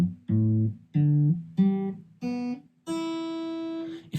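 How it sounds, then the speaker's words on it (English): Acoustic guitar, freshly tuned, with open strings plucked one at a time in five separate notes, then a final strum ringing out, clear and close with no talking. "Your guitar should be tuned now. It should sound something like this."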